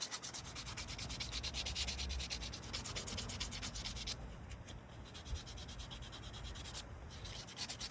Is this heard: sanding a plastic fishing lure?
yes